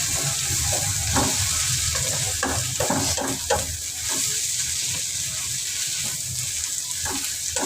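Bitter gourd and potato sizzle steadily in a pan, a continuous close frying hiss with intermittent stirring scrapes throughout.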